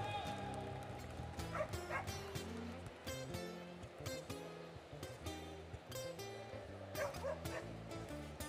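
A pair of Jack Russell terriers barking and yipping repeatedly at a dog show, with sharp close barks and whimpers over a busy hall, an announcer speaking in the background.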